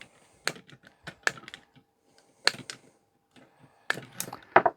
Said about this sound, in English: I'm going to trim these wires off here.